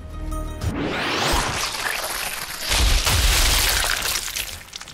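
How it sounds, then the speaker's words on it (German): A stick grenade explodes in the World War II shooter game Sniper Elite 4, a loud booming blast followed by rumbling debris and a second heavy burst, with no talking over it. "Okay, dann werfen wir eine Stiftgranate rauf."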